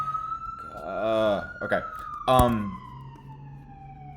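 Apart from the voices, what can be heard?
siren passing outside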